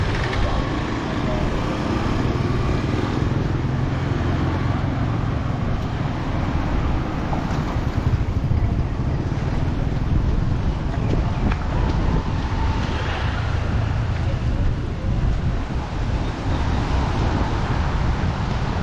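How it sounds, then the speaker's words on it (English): Wind at Ao Nang beach in Krabi, Thailand, buffets the microphone in a constant heavy rumble and rush, with a voice talking faintly at times underneath. "so windy here"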